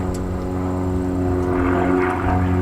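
A propeller aerobatic airplane at an aerobatic club contest holds a steady, droning engine note through a manoeuvre, loud and continuous with a slight rise in intensity.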